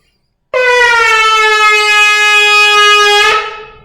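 A shofar sounds one long, sustained tekiah blast, a loud steady horn tone with rich overtones that holds for nearly three seconds alone before cutting off.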